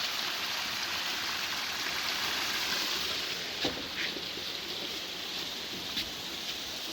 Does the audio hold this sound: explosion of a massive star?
no